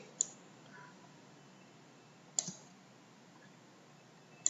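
A computer mouse gives three sharp, isolated clicks spaced about two seconds apart, close and crisp against a near-silent room.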